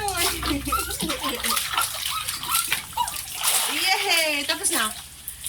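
A baby splashes and sloshes water during a first bath, with irregular close splashes while adults talk and a voice cuts in throughout.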